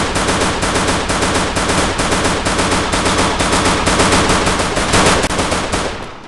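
Automatic gunfire in the mobile game Free Fire roars in one dense, continuous burst for about six seconds, loud and up front, cutting off at the end with no voices.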